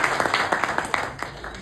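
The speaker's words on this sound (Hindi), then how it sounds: "एक बार अपने स्वागत के लिए जोरदार ताली।" Audience clapping in welcome at a direct selling business meeting, a steady patter of many hands with rhythmic peaks, fairly close and moderately loud throughout.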